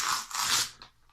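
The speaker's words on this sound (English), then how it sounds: "Sorry for the noise of the tearing." Magazine paper rips sharply in a quick burst, a close, dry tearing sound lasting about a second.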